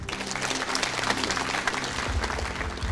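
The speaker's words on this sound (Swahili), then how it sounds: "Situmpigie makofi." A church congregation applauds Reverend Ben with steady, dense clapping from a crowd that carries on without pause, close and loud throughout.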